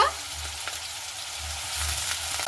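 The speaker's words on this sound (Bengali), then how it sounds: "আলুগুলোকে সবার প্রথমে আমি ভেজে নিচ্ছি।" Potatoes frying in hot white oil, a steady close sizzle with occasional stirring scrapes and small surges of crackle.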